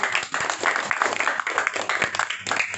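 A crowd claps continuously, dense broadband applause with scattered sharper hand claps, moderately loud throughout.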